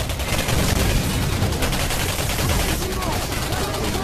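Sustained rapid AK rifle gunfire in the video game Singularity roars continuously, dense and loud, with no pauses.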